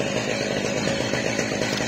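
Chainsaw on an Alaskan sawmill slabbing sugar pine, a loud, steady, continuous buzzing whine held at full cut without pause, close by.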